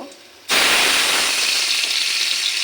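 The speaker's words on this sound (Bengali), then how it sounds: "এখন মাছটা আমি কড়া করে ভাজা করে নেব" Fish dropped into hot mustard oil gives a sudden loud, steady sizzle and crackle that starts after a brief quiet moment and continues without letting up.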